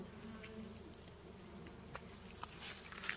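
Steady buzzing of many wild honeybees around a hive under a rock, low and constant, with a few light taps and rustles near the end.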